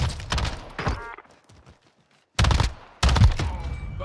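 Video game gunfire rings out in two loud, dense bursts, a short volley up front and then heavy rapid fire in the last seconds, with a quiet stretch between them.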